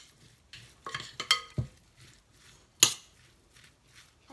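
A spoon stirs and mixes gyoza filling with soy sauce and spices in a bowl, giving a few quiet, close scraping and clinking strokes separated by pauses.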